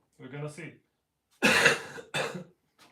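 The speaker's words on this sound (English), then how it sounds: "still coughing." A few harsh coughs close up, two bursts in quick succession after a short vocal sound, then a faint trailing noise.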